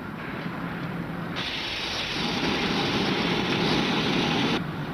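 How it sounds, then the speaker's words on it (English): A standing steam locomotive lets off steam through its safety valve, a loud, steady broadband hiss that swells after a second and holds for several seconds before easing, with no talk. "He's bleeding off his steam."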